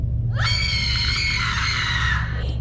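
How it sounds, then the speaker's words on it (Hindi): A woman's long, piercing scream for a horror story effect, rising sharply and holding at full strength for about two seconds before cutting off, loud and alone over a low rumble. "मेरी चीख की आवाज़ सुनकर सभी घर के लोग वहाँ पर आ गए।"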